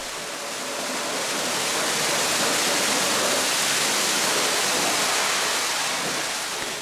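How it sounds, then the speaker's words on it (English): A high-pressure washer sprays a Tesla Model 3, a steady broadband hiss of water jets that swells gently and holds loud and close with no other sounds. "When washing with high pressure like this"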